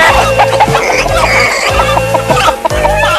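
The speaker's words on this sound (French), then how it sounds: "Les poulets." Cartoon chickens clucking in the 1984 animated series Pole Position, a loud, busy flock of repeated clucks and squawks filling the whole clip over a continuous background.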